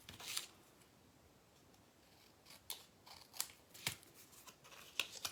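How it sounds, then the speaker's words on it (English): Sharp, precise scissors snip paper for a mini birdhouse craft, a few crisp isolated cuts spaced out against a quiet background. "Let's cut that down just a notch."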